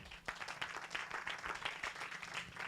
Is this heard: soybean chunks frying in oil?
no